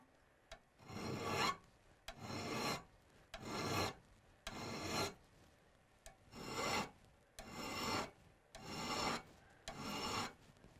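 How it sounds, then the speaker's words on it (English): A hand file sharpens the pick of an ice climbing tool in about eight steady one-direction rasping strokes, each a loud gritty scrape with short pauses between, close up and with no talking. "And I'll just go back and forth on each side. Notice I'm just filing in one direction."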